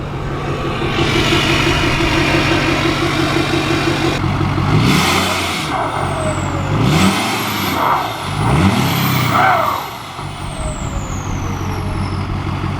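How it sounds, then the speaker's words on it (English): Diesel truck engine running cold, a loud close idle with rhythmic revs and swells, plus an air-brake-like hiss and whine partway through. "I'm not used to hearing a diesel anymore."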